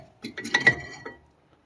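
Metal clinks from a front brake caliper being removed on a BMW X3 E83 during a pad and rotor job, a short cluster of three or four bright clanks close by, then quiet.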